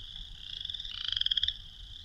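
A male western chorus frog gives a single rising, raspy trill, a close, clear ripple of rapid pulses that speeds up and grows louder before cutting off, with no voices.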